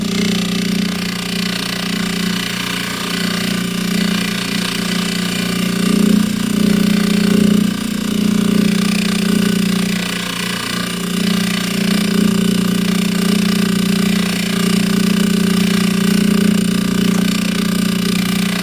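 A berry buff wheel charged with Midori compound spins against a necklace, giving a steady, loud motor whine with a strong low hum that holds throughout.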